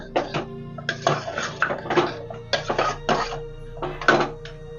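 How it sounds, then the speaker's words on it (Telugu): Ingredients for mutton curry being stirred in a metal pot, with a spoon scraping and knocking against the sides in a series of irregular clinks and scrapes, close and fairly loud, no talking. "ఇవన్నీ వేసుకుని మళ్ళీ బాగా కలుపుకోవాలన్నమాట"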